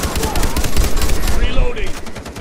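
Rapid automatic gunfire from a Far Cry 3 co-op match rattles loud and continuous, dense bursts filling the whole stretch and easing slightly toward the end.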